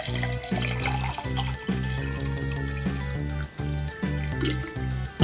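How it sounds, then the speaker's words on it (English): Water is poured steadily from close by into a glass vessel set in front of a drawn arrow, a continuous trickling stream with a few brief breaks. "now we pour water inside this one"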